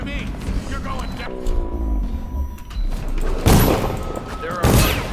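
Gunfire and thuds in the stealth game Dishonored: The Brigmore Witches, several sharp bursts and booms mixed with a mechanical whir, under a player's talk.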